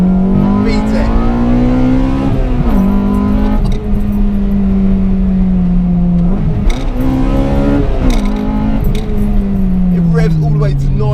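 A 1998 Honda Integra Type R with VTEC screams up to about 9,000 rpm, its engine note climbing and holding in several loud sustained pulls, with brief drops between revs, heard close up and alone.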